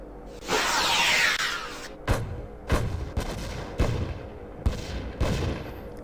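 Phaser fire in the Star Trek: The Next Generation – A Final Unity game: a long rising whoosh, then a series of five punchy blasts at steady intervals, loud and close with no voices.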